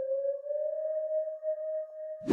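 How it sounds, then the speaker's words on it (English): A pure sine wave synth tone from a music production holds one steady, clean pitch with a faint upper overtone, sustained alone for about two seconds before cutting off. "To finish this up, I'm just gonna grab this sine wave"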